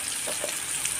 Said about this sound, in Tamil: நல்லா எண்ணெயிலேயே வந்து தக்காளியும் மிளகாயும் நல்லா வதங்கிக்கிறட்டும்